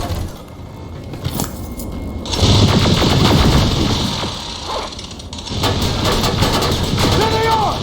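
Rapid automatic gunfire bursts out during a combat scene in Terminator: Resistance, loud and close, mixed with mechanical clatter and shouting voices, then pausing briefly and resuming.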